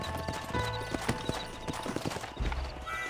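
Horse hooves clip-clop in a steady walking rhythm in the Western video game Red Dead Redemption, several horses close by over faint ambient background, no speech.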